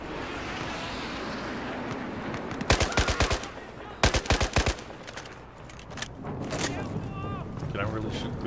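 Bursts of Battlefield 4 gunfire ring out as a player fights around a stairwell, two rapid volleys of close automatic shots over steady in-game background noise.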